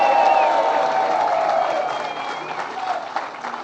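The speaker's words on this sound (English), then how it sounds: "Give him a big round of applause." Audience applause with some cheering greets the head of the AFL-CIO at a bill-signing event. The clapping starts full and gradually thins, with voices mixed in.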